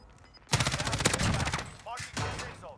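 Automatic gunfire in Call of Duty Warzone, a close, sharp burst of rapid shots lasting about a second and a half, then a second shorter burst after a brief pause.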